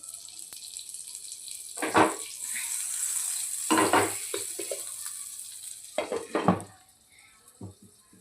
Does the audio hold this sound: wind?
no